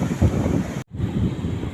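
Strong wind gusting over a rocky seashore, a loud, low roaring rumble buffeting the microphone, broken by one brief drop-out.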